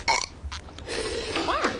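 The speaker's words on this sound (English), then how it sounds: "We're having a burp contest, Mom." A single loud burp erupts during a burp contest in The Simpsons cartoon, followed by shorter croaking vocal bursts and a brief rising squeal, all close and clear.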